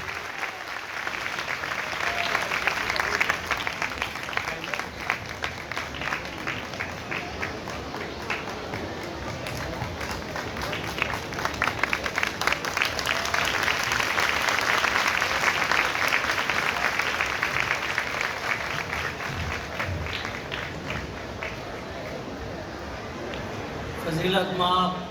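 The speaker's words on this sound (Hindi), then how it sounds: "आपकी जोरदार तालियों में रेवरेंड फादर सरफराज साइमन" A crowd at the Tajposhi celebration in Mariamabad applauds to welcome Reverend Father Sarfaraz Simon, with loud, sustained clapping that runs for about twenty-five seconds and swells in the middle before easing off slightly.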